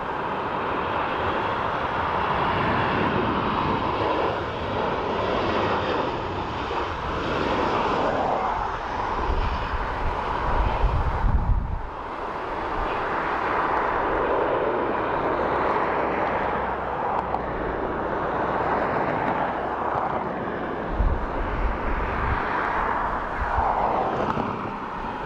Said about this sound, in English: So 737 Ryanair in from Verona.